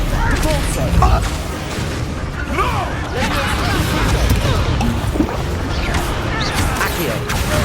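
Depulso force spell blasts in Hogwarts Legacy amid busy combat, with sharp crashing, thumping impacts and pops scattered through a dense, loud battle mix while a voice talks over it.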